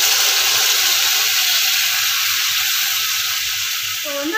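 Pomegranate paste hitting hot ghee in a pan gives a steady, close, bright frying sizzle with a faint bubbling undertone throughout, alone without voices.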